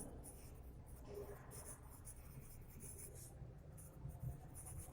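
A teacher writes on a board during a grammar lesson, with faint, soft scratching strokes in short bursts over a quiet room hum.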